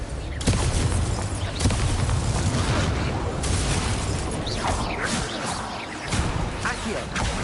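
Confringo spell cast in the Hogwarts Legacy video game, a dense run of blasts, crashes and whooshing bursts roaring continuously and loudly over the whole stretch amid dueling effects.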